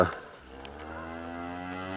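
A cow on a farm, heavily in calf, moos to her young calf in one long, steady, close call that swells after a brief opening and holds to the end, rich with layered tones.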